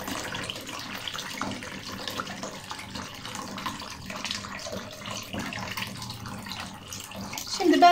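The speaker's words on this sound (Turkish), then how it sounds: "Şimdi şöyle zeytinimizin ilk suyunu süzelim" The first curing water being drained off black olives: a steady run of pouring and splashing water that continues throughout, growing slightly louder at the very end, with no talking.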